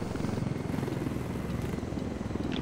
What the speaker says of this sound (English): Destroy that chopper right there.